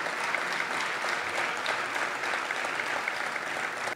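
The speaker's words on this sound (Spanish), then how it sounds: "Otro aplauso grande para ello" An audience at a sports awards ceremony gives a steady round of applause for an award winner, even, continuous clapping at moderate distance that lasts throughout, with no talking.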